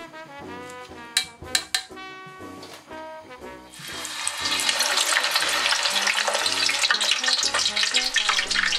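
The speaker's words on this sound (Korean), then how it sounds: "튀김 소리 죽이죠." Pork intestines, already pre-cooked, deep frying in hot oil, a dense, loud crackling sizzle that swells in at about four seconds and runs steadily to the end, preceded by a few sharp clinks and a brief musical passage.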